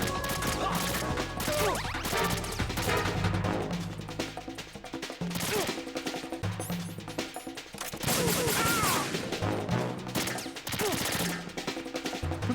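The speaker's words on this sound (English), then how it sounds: "Who the hell is shooting at me?" Chaotic combat in the video game Metal Gear Solid 2, with loud bursts of gunfire, crashes and impacts layered over music, intense throughout with a brief dip midway.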